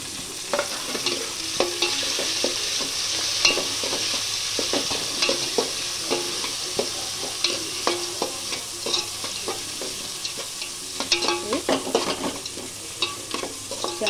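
Chopped tomatoes fry in a pan for chicken pulao, a steady loud sizzle running throughout with frequent scraping and tapping of a spoon as they are stirred, no voices.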